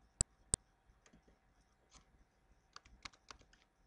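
A password typed on a computer keyboard in point-of-sale software: two sharp mouse clicks, then a quiet, uneven run of soft key taps in a silent room.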